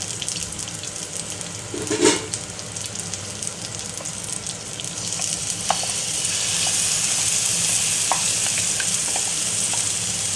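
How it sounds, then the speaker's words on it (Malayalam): Curry leaves sizzle in hot coconut oil in a pan, a bright hissing crackle that grows louder and denser in the second half, with a few light utensil clinks. "ഇതിലേക്ക് കുറച്ച് വെളിച്ചെണ്ണ ഒഴിച്ച് കൊടുത്തിട്ട് വെളിച്ചെണ്ണ ചൂടായതിന് ശേഷം നമുക്ക് വേപ്പില ഇടാം"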